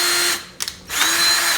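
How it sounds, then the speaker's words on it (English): A power drill bores straight through a wooden screen printing frame, two loud sustained whirring bursts split by a short pause with faint clicks, close and with no voices. "Just drill straight through."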